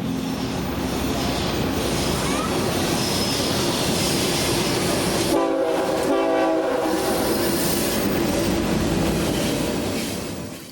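A BNSF intermodal freight train led by a single GEVO locomotive rumbles past close by in Kansas City, loud and continuous, with a horn blast and a brief tonal squeal midway as the cars roll through.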